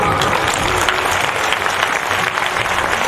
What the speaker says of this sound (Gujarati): તાળીઓનો ગડગડાટ બંધ ન થવો જોઈએ